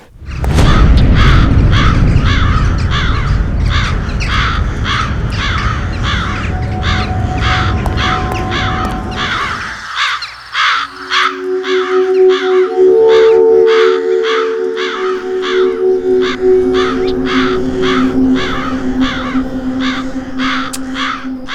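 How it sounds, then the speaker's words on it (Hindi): A crowd of crows cawing in rapid repeated calls throughout, loud and close, first over a rumbling low background and later over a steady hum with sustained tones in a horror-show setting. "इनकी काव काव ने मेरा सिर दुखा दिया है।"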